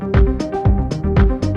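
A house groove layers piano and synth chords over bass and kick, pulsing in a steady rhythm, loud and full with no one talking.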